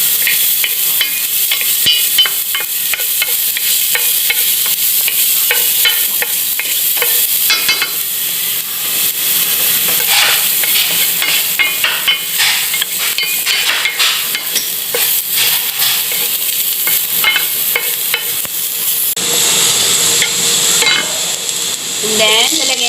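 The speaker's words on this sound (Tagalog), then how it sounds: "Maglalagay tayo ng mantika sa ating kawali. Maglalagay tayo ng garlic." Garlic sizzles in hot oil in a pan while being stirred, producing a continuous loud crackling fry with repeated scraping and clinking of the utensil against the pan, and a voice speaking briefly.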